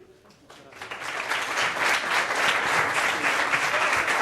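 A crowd at a meeting with young people at the Scholas Occurrentes headquarters breaks into applause. It starts quiet, swells within a second into loud, sustained clapping and holds at full strength.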